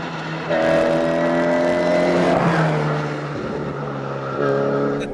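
Historic rally Mini, built before 1968, racing along the Clayton Hotel Kilbeg stage of the 2011 Galway International Rally, its engine loud and close with a sustained high rev, a shift and then renewed acceleration.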